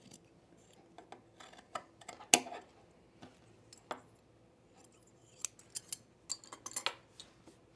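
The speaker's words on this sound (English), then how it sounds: "This edge right here, this could be trimmed a little bit right through here." Scissors snip through the edge of pre-quilted jacket fabric, giving sparse, close, crisp cuts in short irregular bursts with pauses between, over a quiet room.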